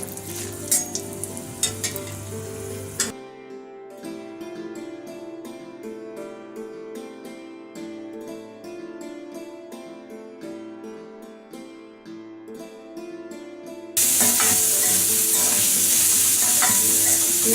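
Finely chopped onion and dried red chillies fry in a pan for a paneer masala, a sizzle heard under soft background music, with occasional stirring scrapes. The sizzling grows louder and harsher near the end.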